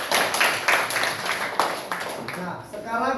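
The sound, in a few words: students applauding the next group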